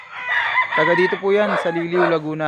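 A rooster crows in long, loud, drawn-out calls at a backyard mini farm among chickens in Liliw, Laguna, with someone speaking over the crowing.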